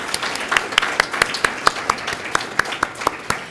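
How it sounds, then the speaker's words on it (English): Applause from the audience at the Day 3 opening of an Emerge Australia event, a short burst of sparse, scattered clapping with distinct individual claps standing out over a low murmur. "there is another round of applause"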